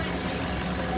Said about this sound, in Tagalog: Daming bus na dumadaan.